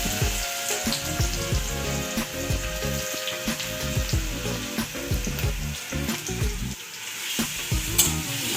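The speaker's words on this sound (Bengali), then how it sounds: "তেলটা একটু নেড়ে ছেড়ে আমি গ্রেট করা আদা রসুনটা দিয়ে দিচ্ছি।" Grated ginger and garlic sizzling in hot oil on a medium gas flame, with steady frying crackle broken by repeated scraping and stirring strokes of a spatula in the pan.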